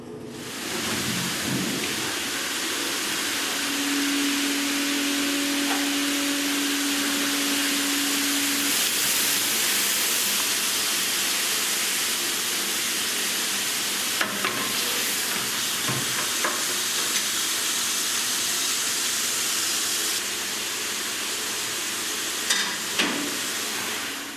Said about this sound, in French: C'est la machine à brosser les truffes.